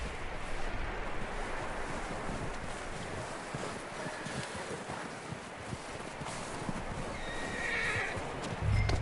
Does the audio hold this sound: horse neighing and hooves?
yes